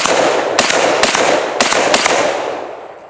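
An M14 clone rifle with an M-Line stock fires about four rapid shots at steel targets, sharp loud cracks roughly half a second apart, each followed by reverberant outdoor ringing that slowly fades.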